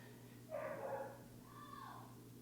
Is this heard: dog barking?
yes